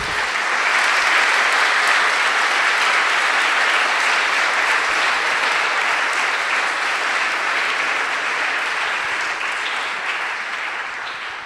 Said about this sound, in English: An applause to him, please.